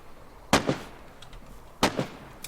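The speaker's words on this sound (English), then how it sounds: "Gonna fire off a couple rounds into him." Two sharp gunshots from the video game DayZ, fired about a second apart with a fainter crack trailing each, followed by a brief distant pop, with no talking.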